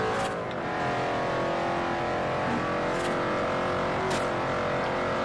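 A Ford GT driven in the racing game Forza Horizon, its engine droning steadily and loudly throughout with a continuous close mechanical hum and faint tire noise.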